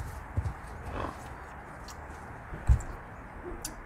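A mare named Star moving about, with a few soft, brief hoof thuds spaced apart in a quiet outdoor setting; faint, no voices.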